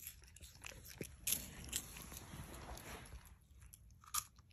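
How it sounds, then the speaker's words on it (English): A monkey chews and bites food close up, a steady wet mastication with a few crisp crunches and sharp clicks, no talking. "What'd you get, George? More food? Yum"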